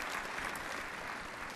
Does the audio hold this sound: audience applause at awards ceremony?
yes